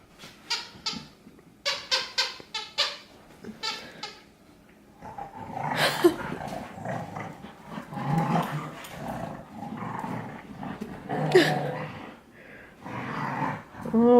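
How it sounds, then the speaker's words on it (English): Dogs play and roughhouse together in a living room, with close growls, huffs and scuffling in irregular bursts, and a few sharp yips early on. "they can play and roughhouse together and be crazy pups"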